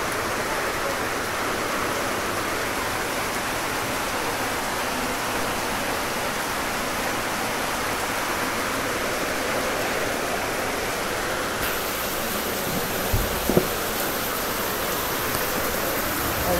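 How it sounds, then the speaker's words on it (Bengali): Heavy rain pouring down steadily, a dense, loud, even hiss throughout with a few brief knocks near the end. "প্রচণ্ড পরিমাণের বৃষ্টি নামতেছে আজকে"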